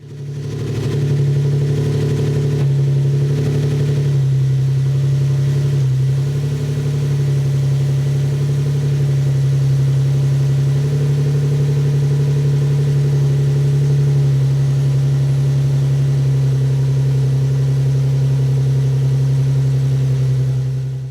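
A car V6 engine idles steadily after a cold start with a deep, even hum and slight roughness, loud and close, running continuously without revving.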